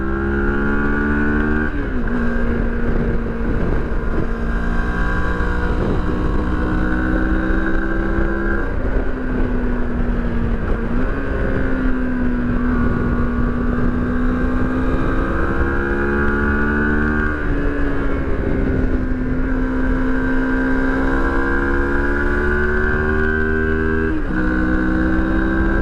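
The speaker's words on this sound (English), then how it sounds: "let's send the X-Cape through some twisties here and see how she does" A Moto Morini X-Cape motorcycle run at full power through twisty roads, its engine droning loud and steady, rising and falling through repeated gear changes, with heavy wind rush throughout.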